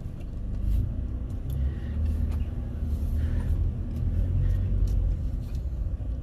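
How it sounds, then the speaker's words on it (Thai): A steady, low road rumble and engine drone fills the inside of a car driving home on an ordinary road, even and continuous, with no talking. "ตอนนี้กำลังขับรถกลับบ้านนะครับ"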